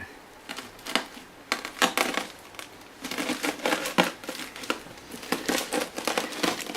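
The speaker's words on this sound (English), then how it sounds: "we're going to use a plastic bag and a rolling pin." Irregular crunching and crackling bursts as brewing grain for honey ale is crushed with a rolling pin in a plastic bag, with rustling plastic between rolling strokes, close up.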